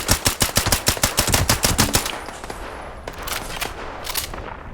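A combat rifle in Fallout 76 fires a fast, loud burst of about a dozen close shots, then a few scattered single shots follow with quieter gaps between them.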